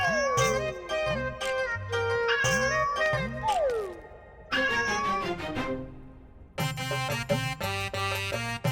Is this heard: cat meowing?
yes